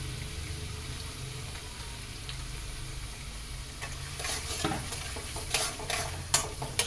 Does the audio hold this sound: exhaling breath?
no